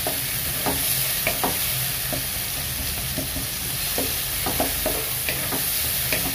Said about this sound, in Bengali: আমি পেঁয়াজটা একটু হালকা ভেজে নেবো